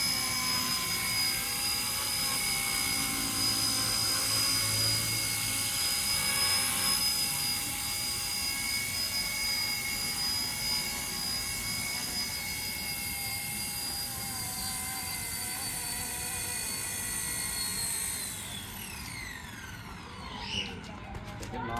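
A small RC-Era Huey mini RC helicopter flies close by with a steady high-pitched motor and rotor whine, holding a constant tone before it drops in pitch and fades near the end.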